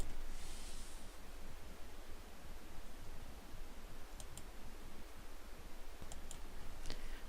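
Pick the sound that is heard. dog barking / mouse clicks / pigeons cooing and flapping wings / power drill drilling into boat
mouse clicks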